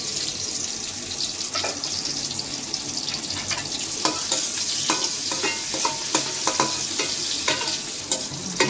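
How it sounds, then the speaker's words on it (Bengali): Onion, garlic and green chillies fry in hot oil for a Bengali fish curry with eggplant. A steady sizzle runs under repeated scraping stirs of a spoon against the pan, growing busier toward the end, with no voices. "পেঁয়াজ দিলাম, রসুন দিলাম, কয়টা কাঁচামরিচ দিলাম। একটু ভাজা ভাজা হোক"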